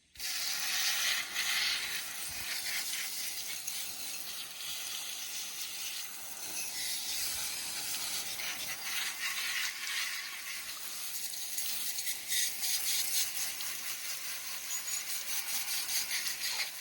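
A steady hiss of water spraying from a hose onto a bicycle, with rattling spatter and brief dips where the stream shifts, continuing without speech.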